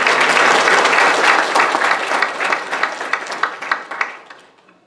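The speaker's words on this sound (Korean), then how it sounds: "큰 박수로 맞아주시기 바랍니다." An audience at an independence commemoration event greets a lecturer with loud, full applause that holds strong, then thins into scattered individual claps and fades out.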